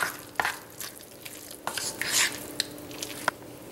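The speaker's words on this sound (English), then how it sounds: "mix this together." Spinach and mushroom ravioli filling of cooked vegetables being mixed in a bowl, with scattered spoon scrapes and soft clinks at an irregular pace, close and fairly quiet.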